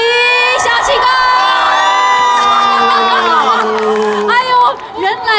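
Fans at a band's album signing event scream and cheer for a surprise guest singer: loud, sustained high-pitched shrieks and whoops from a close crowd, swelling and then breaking into scattered shouts near the end.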